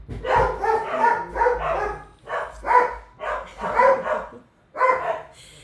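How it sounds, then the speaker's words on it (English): Several dogs bark repeatedly in uneven bursts, fairly close and loud, with a few yips mixed in. "do excuse the dogs, I reckon the postman's here"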